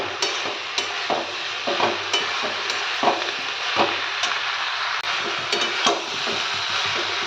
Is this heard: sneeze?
no